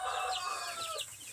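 Chickens from a small backyard flock cluck and chatter softly at close range, a brief run of rising, squawky calls overlapping at a low level.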